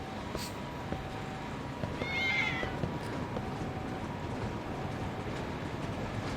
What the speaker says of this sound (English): Oh, there's loads of cats. Look at them.